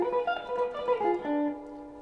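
A guitar plays a quick lick that climbs a diminished arpeggio in small note groupings and then settles on a sustained final note, clear and alone with no talking.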